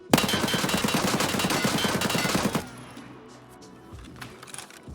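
Rapid automatic rifle fire in Escape From Tarkov, a fast, loud burst of evenly spaced shots lasting a couple of seconds, followed by quieter clinks and handling noise.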